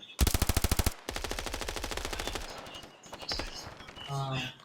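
Automatic weapon fire in the Standoff 2 mobile shooter game: a rapid, loud burst of evenly spaced shots, then a longer, slightly softer stream of rounds and a few scattered shots, with player voices talking over the end.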